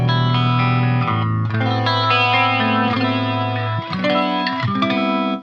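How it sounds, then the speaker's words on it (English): An electric guitar through a Fender Champion 50XL amp with a flanger effect, playing loud sustained chords and notes with a swirling, robotic sweep that shifts across about five seconds, no talk. "Hear that in the background, that weird kind of robotic sound starting to swirl"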